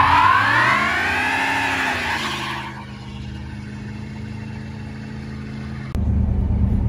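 A bodyless Chevrolet Monte Carlo SS with a 305 engine drives past, its motor loud and revving at first, then easing off into a steady lower hum with a sharp bump near the end.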